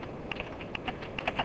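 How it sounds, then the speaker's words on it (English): Notes are typed on a computer keyboard, giving a quick, uneven run of light key clicks close by. The typing is quiet and there is no talk. "I'm now going to type some notes here to assist me when I do my recording."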